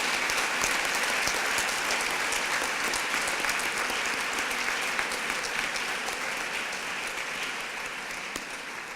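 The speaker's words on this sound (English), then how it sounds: "Would you please give them a round of applause?" A large audience at a 2017 high school commencement ceremony applauds steadily for the full stretch, a dense, even wash of clapping that thins slightly toward the end.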